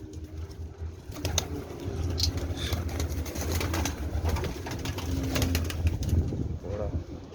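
Sialkoti pigeons coo softly and repeatedly in a low, throaty rumble, with scattered rustling and faint wing flutters close by, and background noise throughout.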